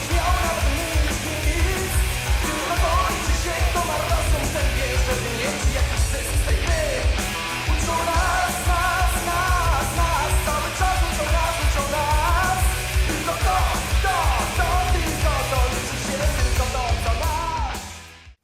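Polish thrash metal band Turbo playing the album track They Always Teach Us, a dense, loud full-band mix of distorted guitars, bass and drums with shifting melodic guitar lines, sustained throughout before cutting off at the end.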